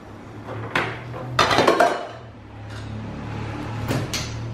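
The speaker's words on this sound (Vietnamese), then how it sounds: "mình dùng đũa hoặc là muỗng mình quậy để cho bột thì nó không có bị cháy các bạn" A spoon or chopsticks stir tapioca starch in a pot for a banana and coconut dessert, making a few scattered clinks and scraping sweeps against the metal over a low steady hum, close by with no talking.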